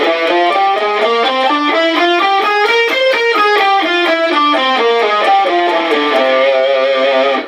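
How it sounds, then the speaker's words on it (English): Loud overdriven electric guitar climbs and descends a Mixolydian flat 6 mode scale note by note at a steady tempo, played solo before settling on a final tone. "The fifth mode is called mixolydian flat 6,"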